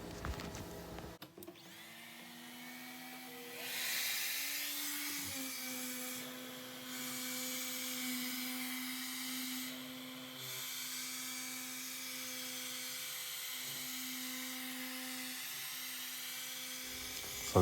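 A wooden cutting board is power-sanded with 220-grit sandpaper, giving a steady whining hum that runs nearly unbroken from start to finish with slight shifts in pitch, close and alone with no talk.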